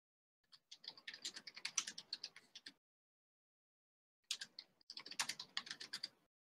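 Fast, uneven typing on a computer keyboard, two bursts of crisp key clicks separated by a pause of silence, fairly close and alone.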